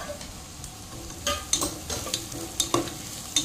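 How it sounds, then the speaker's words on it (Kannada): Onions, curry leaves and green chillies frying in oil in a home kitchen pan, a soft continuous sizzle broken by sharp scraping stirs and metallic taps at irregular intervals, close and unaccompanied by speech. "ಇವಾಗ ನೀರುಳ್ಳಿಯನ್ನು ಸ್ವಲ್ಪ ಫ್ರೈ ಮಾಡಿಕೊಳ್ತೇನೆ"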